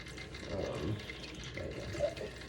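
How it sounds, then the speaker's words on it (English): Water poured into a snake tank, a soft steady trickle and splash at close range that swells slightly in the middle, with no voices. "I'm just adding a little bit of water and I'm smoothing it back out."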